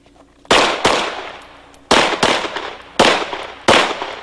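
Pistol shots at an IDPA shooting competition stage: five loud, sharp reports, close by and unevenly spaced, each followed by a ringing decay, with no talking.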